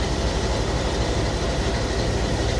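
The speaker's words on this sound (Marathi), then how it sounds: "ट्रेन धावत असते." A train runs steadily along a railway track, a continuous dense rumble and rolling noise with low engine drone, near and unchanging throughout, with no voices.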